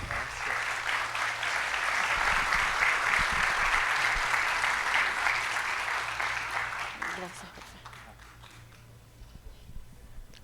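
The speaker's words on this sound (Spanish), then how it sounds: "un aplauso más duro para Yameli, tremenda exposición, excelente." Audience applause at a national social security congress session, a sustained wave of clapping for about seven seconds that tapers off into a quieter room with faint voices.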